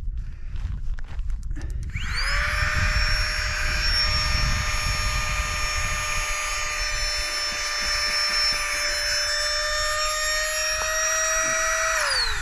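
A Flextail Tiny Pump 2X starts up after a couple of seconds of rustling and inflates a camping pillow outdoors. It gives a loud, steady high-pitched whir that holds for about ten seconds before winding down.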